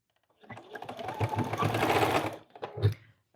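A sewing machine runs close in a short burst of rapid stitching, sewing binding around the edge of a quilted placemat made from a vintage quilt.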